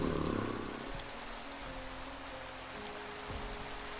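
Steady rain hiss falls in the blocky video game Minecraft, a continuous broadband wash with no speech, joined by a low humming game tone and a faint creature sound at the start.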